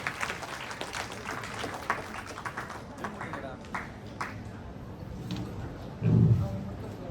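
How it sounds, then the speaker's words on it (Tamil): Audience at a Tamil debate-stage event clapping, a dense patter of applause from a crowd, moderately loud with a brief louder burst near the end, while a voice speaks over it. "பலத்த கைத்தட்டல் கொடுங்க எல்லாரும்."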